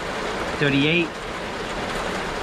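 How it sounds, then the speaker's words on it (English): Heavy rain pouring outdoors, a dense steady wash of hiss that runs throughout, with someone briefly saying a number over it partway through. "sorry for the rain, it just started pouring."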